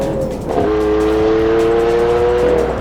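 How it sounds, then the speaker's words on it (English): A fast car on the Top Gear test track screams past at full throttle, its engine note climbing in a loud, sustained whine, close and continuous with no voices. "Overtake on the right, squeeze it down."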